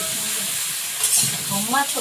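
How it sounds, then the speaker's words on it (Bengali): Eggplant frying in a wok crackles and sizzles up close, with brief stirring scrapes over a short, fairly quiet stretch. "আর শুধু বেগুন ভাজা হচ্ছে কিন্তু"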